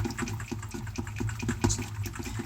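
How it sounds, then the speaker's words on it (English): A whisk beats hollandaise sauce over low heat in quick, rhythmic strokes, giving a close, continuous wet clatter with no talk. "I'm not going to stop whisking at all"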